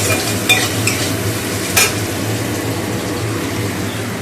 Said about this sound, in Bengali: পটলটা তেজপাতা পাঁচফোড়ন দিয়ে একটু নেড়ে ভাজা ভাজা মতো করে নেবো